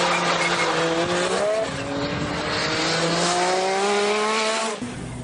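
A 1000-horsepower Nissan Skyline GT-R R33 accelerates hard, its engine note climbing through the revs with a gear change partway through, while tyres squeal and skid loudly and close by.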